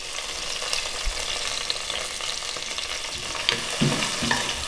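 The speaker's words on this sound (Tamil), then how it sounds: "வெங்காயம் கருவேப்பிலை எண்ணெயில் நல்லா வதக்கிக்கலாங்க" Steady sizzling and crackling of onions and curry leaves frying in hot oil, with occasional stirring scrapes near the end.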